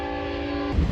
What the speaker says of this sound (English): Oh, there's a train coming by.